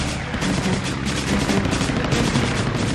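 Rapid machine-gun bursts rattle from a P-40 fighter plane, a dense, loud stream of gunfire that keeps going with no pauses and no talk.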